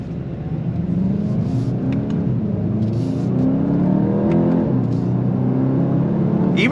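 Engine of a 2025 VW GTI SE Mk 8.5 heard from inside while driving, a steady low drone whose pitch climbs and then drops smoothly through downshifts, with road and tire noise underneath.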